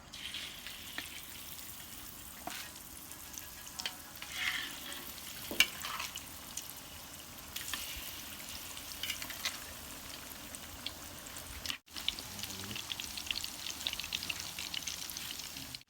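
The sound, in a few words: chicken frying in hot oil in pan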